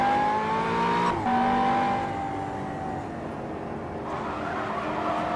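A supercar in the Simraceway racing game driving on grass, with a steady, droning engine note that shifts pitch and tire noise underneath, moderately loud with no talking.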